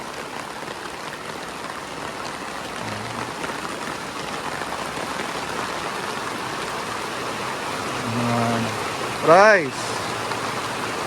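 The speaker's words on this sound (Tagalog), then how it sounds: "Grabe po, naglakas na bigla ang ulan." Heavy rain pours steadily in a dense, hissing wash, with a brief thud and a short voice near the end.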